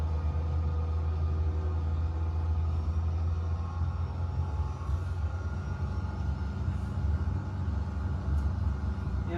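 Truck engine rumble in a driving video game, a steady low drone with constant tonal hum holding unchanged throughout, no voices.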